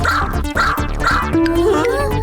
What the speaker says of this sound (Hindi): चलो भौंक के दिखाओ।